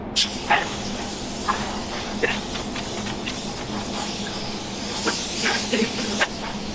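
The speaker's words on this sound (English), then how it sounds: "get the clear put on it" A spray gun hisses steadily and close by, spraying clear coat over yellow paint, with short sharper bursts of spray now and then.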